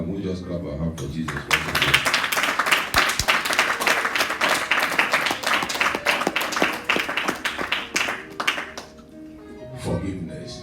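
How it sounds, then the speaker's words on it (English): Church congregation clapping hands together in a steady, dense rhythm for about eight seconds, loud and close, then fading out near the end. "Can we just clap our hands for Jesus?"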